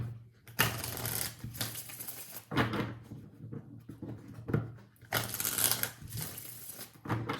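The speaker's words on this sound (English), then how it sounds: "Shuffling for Sag, next 7 days." A tarot deck being shuffled for a reading, with repeated crisp bursts of card riffling and handling separated by short pauses, close and fairly quiet.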